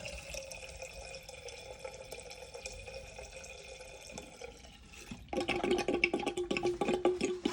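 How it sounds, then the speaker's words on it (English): Water flushes through an AC condensate drain line with a steady trickling, dripping flow that surges suddenly louder and fuller partway through, close and alone. "What this is going to do is knock any gunk or crap through the drain, because this drain never gets water flow like this through it."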